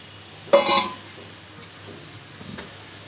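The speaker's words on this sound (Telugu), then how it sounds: "మొత్తం కూడా కలిపేసుకోవాలి." Fish pachadi being mixed together in a bowl, one brief clattering scrape of a utensil against the dish followed by faint, soft stirring clinks.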